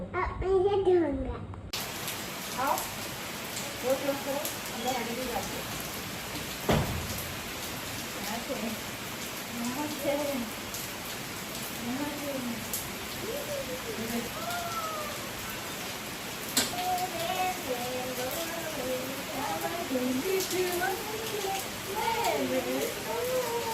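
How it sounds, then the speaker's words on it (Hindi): Sudden rain falling outside a house, a constant hiss of rainfall all through while a toddler babbles and an adult talks over it nearby. "5 बजे के आसपास यहाँ पे अचानक से बारिश शुरू हो गई"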